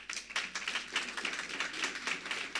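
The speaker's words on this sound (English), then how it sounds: "Upudveli Mbele, as he walks up, we would kindly give him a round of applause." Applause from an audience at a panel discussion as a panelist comes forward, a thin, fairly quiet patter of scattered clapping that stays steady for the whole stretch.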